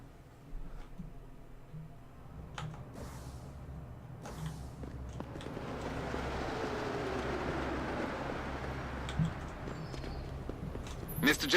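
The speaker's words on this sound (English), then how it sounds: "Just taking the metro." A metro train in the video game Deus Ex: Human Revolution rolls along with steady low rumble and rhythmic clacking of wheels, building to a fuller rushing roar, with a few sharp clicks near the end.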